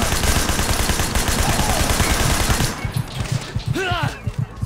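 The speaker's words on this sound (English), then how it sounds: "God, the gun sounds are so good." Gunfire in the video game Sleeping Dogs: a dense, loud barrage of rapid shots that gives way to spaced single bangs, with a person's voice briefly heard over it.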